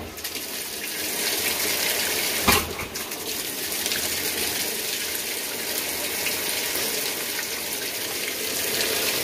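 Cold water runs into a washing machine in a single-wide mobile home, a steady close hiss and gush of filling water with a brief knock partway through.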